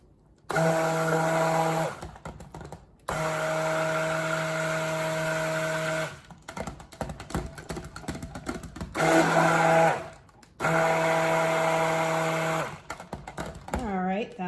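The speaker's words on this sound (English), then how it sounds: "I'm going to blend these up a little bit" An electric blender whirs as it mixes mica colorants for soap, in several loud, steady bursts of a few seconds each with short pauses between them, all close by.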